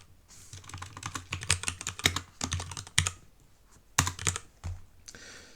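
Typing on a 65% computer keyboard: a quick run of close, crisp key clicks in irregular bursts with short pauses, no voices.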